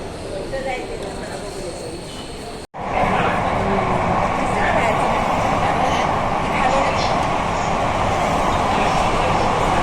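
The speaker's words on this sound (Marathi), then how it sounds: "आम्ही आता मेट्रोमध्ये चाललेलो आहोत" Steady rumbling of a metro train in motion, a continuous rolling drone with faint voices mixed in.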